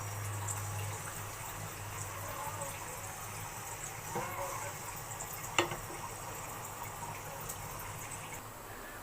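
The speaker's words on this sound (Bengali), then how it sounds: "দুটো রসুন আস্ত রসুন দুটো কাঁচামরিচ দিয়ে আবার একটু কষিয়ে নিচ্ছি" Whole garlic cloves and green chilies fry in a pot with the cooked food, giving a low, steady sizzle with a few clinks of a spoon against metal.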